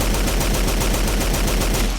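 A Lewis Gun firing plasma rounds in Fallout 4 lets off a continuous rapid burst of loud automatic fire, evenly spaced shots running steadily for two seconds, close and dense.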